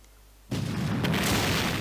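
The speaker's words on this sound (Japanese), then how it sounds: "みんな爆発していくよね。" Enemies explode in the DS version of SaGa 2, a single sudden booming blast that bursts in after a quiet start and rumbles on at full strength.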